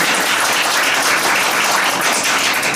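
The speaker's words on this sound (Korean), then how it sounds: "큰 박수로 맞아주세요." Big, dense applause from a crowd at a book concert in Seoul, welcoming a member of parliament as he arrives, loud and continuous with no talk.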